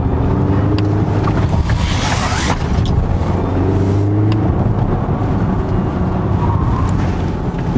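A 2018 Volvo XC60 T8 in sport driving mode takes a curvy road, with a steady loud cabin drone of engine, tire and wind noise that rises and falls slightly, and no talking.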